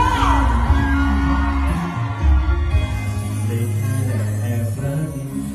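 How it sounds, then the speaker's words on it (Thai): At a Thai temple fair concert, the crowd screams and cheers in loud bursts of whoops and shrieks over booming band music, with a singer's amplified voice heard between them. "ขอเสียงกรี๊ดดังๆสักทีสิ"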